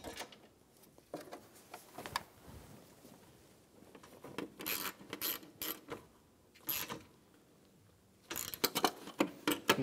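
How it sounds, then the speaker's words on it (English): A hand ratchet tightens 10 millimeter bolts on the AC condenser of a 2003-2007 Infiniti G35 during radiator replacement, quiet bursts of rapid clicking separated by pauses in a calm workshop. "Install the 10 millimeter bolts for the AC condenser."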